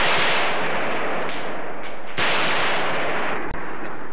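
Troops fire guns from inside Georgia's parliament during an armed standoff in 1991 news footage, a loud continuous roar of gunfire and noise with a couple of sharper cracks.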